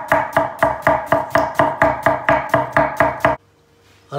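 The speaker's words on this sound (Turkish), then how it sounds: "Arkadaşlar soğanı doğradık." A knife chops an onion steadily on a board, about a dozen evenly spaced cuts in a brisk rhythm, then stops into near silence.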